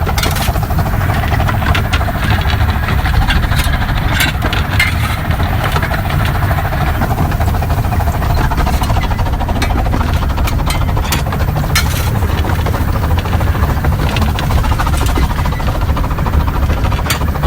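The steam locomotive Northern Chief working hard, heard from the footplate: a loud, dense, continuous roar and rumble with rapid rhythmic chuffing and clattering throughout.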